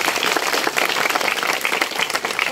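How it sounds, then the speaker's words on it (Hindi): An audience at a magic show bursts into loud, dense applause that holds steady for a couple of seconds. "तालियां जोर से।"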